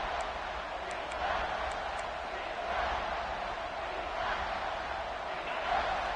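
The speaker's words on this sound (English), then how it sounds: "this big crowd doing everything possible to inspire this defense down here near the goal line" A stadium crowd in a college football video game roars steadily near the goal line, a broad sustained wash of cheering that swells slightly at moments, with commentary under it.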